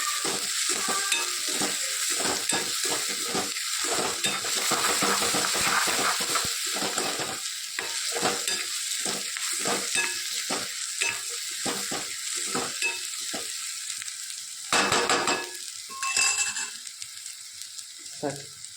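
Besan roasts with fenugreek in a pan, a steady, close sizzle broken by a quick, regular rhythm of scraping stirring strokes that pauses briefly near the end, with no voices.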